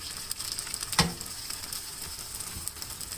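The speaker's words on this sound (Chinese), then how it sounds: "然后向正反面煎过的番茄上面倒入鸡蛋液" Beaten egg poured over tomato slices already fried on both sides in a buttered pan sizzles faintly and steadily, with one sharp clink partway through and no voices.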